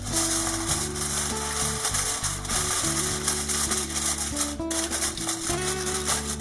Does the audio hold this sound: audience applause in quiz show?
no